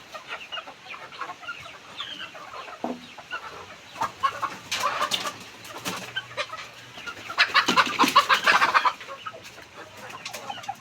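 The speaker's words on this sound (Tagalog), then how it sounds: "Ito ang mga kamanukan. Ito sila." Chickens, including Rhode Island hens, cluck and chatter near and far in a farmyard, with a louder burst of clucking from several birds partway through.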